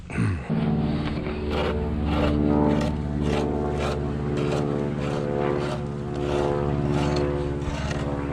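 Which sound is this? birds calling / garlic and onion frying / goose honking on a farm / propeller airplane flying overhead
propeller airplane flying overhead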